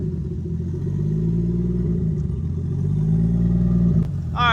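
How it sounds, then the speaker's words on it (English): A 1JZ engine in a Nissan S14 idles while warming up, giving a steady low rumble close by; a brief higher whine rises near the end. "I'll let it warm up for just a second and then I'll rev it up."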